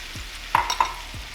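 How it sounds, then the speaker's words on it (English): Asparagus and shiitake mushrooms are tossed into a hot pan, giving a soft background sizzle broken by a few short clanks and scraping stirs, with no voices. "we're gonna add in our asparagus and then our shiitake mushrooms"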